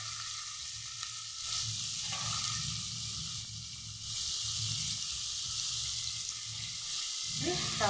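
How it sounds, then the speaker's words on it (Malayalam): Onions sauté with a spoonful of salt in a pan for a potato and green peas curry, giving a steady close sizzle with soft stirring scrapes that swell and fade in waves, and a louder scrape at the end. No talking. "കുറച്ച് ഉപ്പിട്ട് നന്നായി വാട്ടി കൊടുക്കാം"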